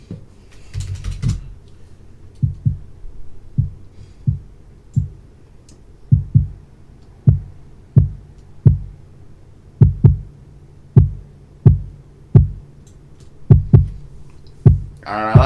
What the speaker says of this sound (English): I'm going to just add some volume to the kick.